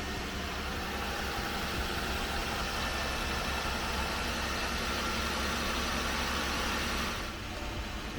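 A Jeep JKU engine idles steadily with a constant low rumble and broadband hum, close and continuous, the sound dipping slightly near the end.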